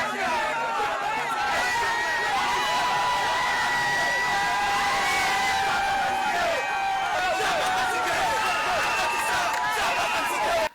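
A Gabonese community crowd greets a presidential couple arriving in Côte d'Ivoire, with dense chatter, shouts and cheers, punctuated by rising whistles and ululating cries, loud and continuous throughout.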